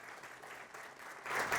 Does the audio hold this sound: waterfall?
no